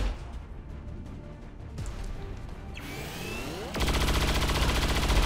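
Rapid bursts of gunfire ring out in XCOM 2, first sparse and distant, then a sustained loud volley in the final seconds, with no talk.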